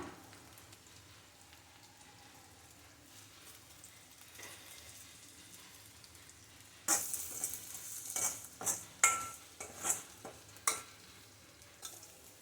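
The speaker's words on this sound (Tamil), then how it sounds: "இது கொஞ்சம் வதங்கிடுச்சு இப்போ இதில் கொஞ்சம் வந்து கருவேப்பிலை போட்டுக்கலாம்" Curry leaves hitting a pan of sautéed onions for fish curry, a quiet low sizzle that bursts into loud crackling and a run of sharp spitting pops partway through, close and unaccompanied by talk.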